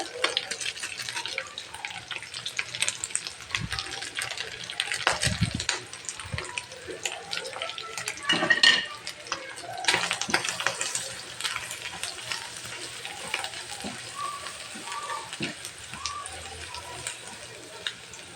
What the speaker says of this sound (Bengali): আমি এখন মরিচের মশলাটা দিয়ে দিচ্ছি।